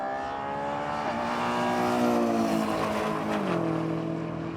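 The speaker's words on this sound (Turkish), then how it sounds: "Look at the Ferrari go!" A Ferrari Purosangue accelerating in a drag race, its engine note rising in pitch through the gears with a brief shift dip, a loud sustained roar heard at moderate distance.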